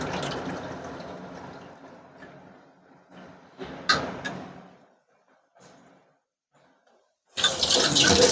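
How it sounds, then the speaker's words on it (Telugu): Tamarind juice pours into a cooking pot for a fish curry, a steady liquid splash that fades over a few seconds, then light kitchen clatter and a renewed burst of pouring at the end. "ఇప్పుడు చింతపండు పులుసు యాడ్ చేసేస్తున్నాను."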